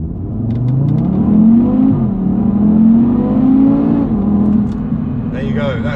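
A 2023 Audi TT RS Iconic Edition with its 2.5-litre engine accelerating hard, the loud engine note climbing steadily through two long pulls with a brief shift dip between them, close and continuous, a voice speaking over it.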